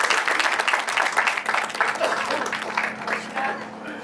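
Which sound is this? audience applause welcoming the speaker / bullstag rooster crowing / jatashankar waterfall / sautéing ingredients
audience applause welcoming the speaker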